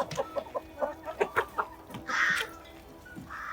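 Young Leghorn hens and other chickens clucking in short, repeated bursts close by, with a few louder squawks and rustling toward the end; no talking.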